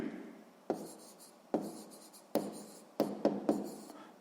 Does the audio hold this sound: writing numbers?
yes